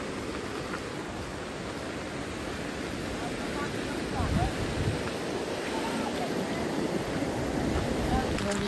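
Floodwater pours steadily over a road in the rain, a loud, continuous rushing wash that swells slightly in the second half and carries on without pause.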